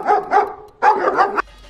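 Dogs barking in two quick bursts, a pair of close yaps, a short pause, then a rapid run of several more barks that stops abruptly.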